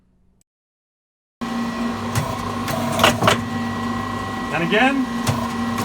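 Solenoids on a turret lathe clamp and unclamp while the turret rotates, giving clunks and a whirring motor amid steady machine hum with a constant tone, and a brief voice speaks near the end.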